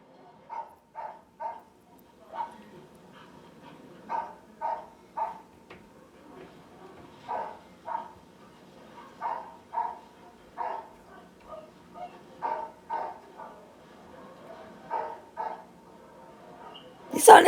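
Dogs bark from a television in a quiet room, a series of short, moderately loud yips and barks coming in irregular bursts, with a louder burst at the very end.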